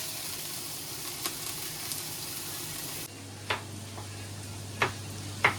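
Food fries in hot oil in a bachelor room kitchen in Dubai, a steady hiss with a few sharp crackles and pops breaking through.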